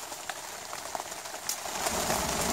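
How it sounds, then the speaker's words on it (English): Steady rain patters and drums on a taut tarp nearby, a dense continuous hiss with scattered sharper drops, no voices. "And listen to the rain."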